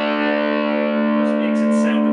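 An electric guitar rings out through distortion with a subtle tremolo pedal set to low intensity, a sustained, full chord that swells slightly toward the end.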